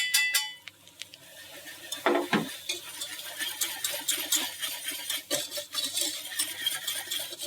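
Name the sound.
flour stirred into browned butter in pan for béchamel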